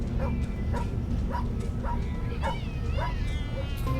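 A stray dog barking in the video game Tales of the Neon Sea, a run of about eight quick, evenly spaced yappy barks over a dense, steady game backdrop.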